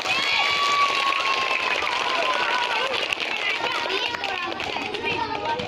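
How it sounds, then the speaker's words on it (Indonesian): Schoolchildren at an SD IT Madani Saman dance performance clap and cheer in a dense, continuous burst of applause mixed with lively children's voices. "Ya, tepuk tangan lagi."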